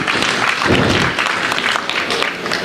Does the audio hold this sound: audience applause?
yes